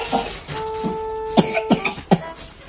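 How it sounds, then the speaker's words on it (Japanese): A child with a cold coughs hard in several harsh, separate bursts, close and loud, while a faint steady tone hums in the background. "二人とも咳がひどいな。"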